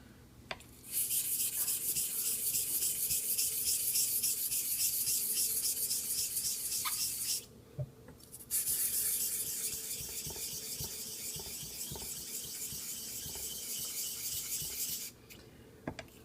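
A straight razor honed on a Japanese natural whetstone, a Nakayama suita, to set the bevel: a continuous close, bright rasping rub that pauses briefly midway and again near the end.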